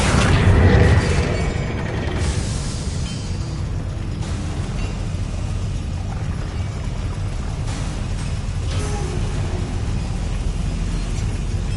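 A Confringo fire spell blast in the Hogwarts Legacy video game, a loud burst at the start that fades into a dense rumbling roar of crackling fire and ambient game sound.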